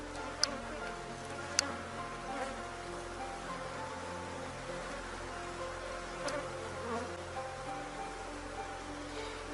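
Honeybees buzz steadily around an open hive during an inspection. A dense, continuous drone holds throughout, with a few faint clicks and knocks from handling the frames.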